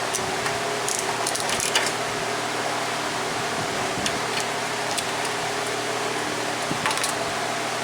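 Socket ratchet clicking as it threads a spark plug back into a Craftsman pressure washer engine, quick bursts of ratcheting clicks spaced over several seconds against a faint steady hum.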